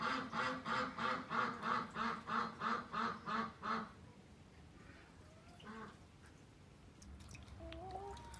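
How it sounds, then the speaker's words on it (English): A duck quacks loudly in a rapid, regular series of about a dozen calls close by on a farm in cold weather, then falls quiet, leaving faint background sounds and a few distant calls. "the ducks quack like crazy when I come out here"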